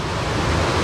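Water rushing steadily at the Ghaghi waterfall near Ambikapur, Chhattisgarh, a loud, dense, continuous roar that fills the whole moment with no voices.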